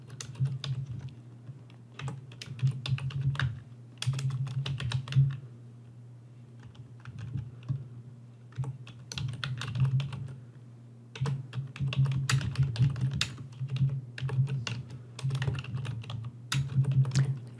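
Rapid keystrokes on a computer keyboard come in close, dense bursts separated by short pauses, with a steady low hum underneath and no talking.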